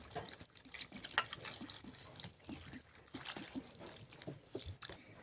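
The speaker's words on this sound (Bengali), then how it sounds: "এরপর দিয়ে দিচ্ছি জল পরিমাণ অনুযায়ী" Water is poured from a vessel into a cooking pan of partly cooked vegetables in a home kitchen, giving a soft, uneven splashing and trickling that is fairly quiet and steady.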